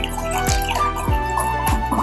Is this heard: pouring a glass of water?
yes